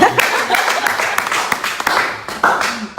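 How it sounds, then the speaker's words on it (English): An audience claps in a burst of uneven, overlapping claps at a live broadcast event, loud and close, with some voices mixed in. "And you guys have to clap for me for sitting beside her."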